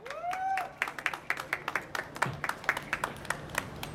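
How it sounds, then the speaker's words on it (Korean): Scattered, light clapping from a small crowd at an evening street campaign rally outside a Seoul subway exit, distinct individual claps in an uneven rhythm after a voice fades out at the start, with quiet street ambience beneath. "맞다고 생각하시면 박수 한번 부탁드리겠습니다"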